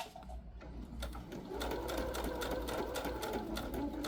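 A sewing machine stitches a T-shirt junk journal in a steady, close whir, then briefly runs in reverse to backstitch and lock the seam.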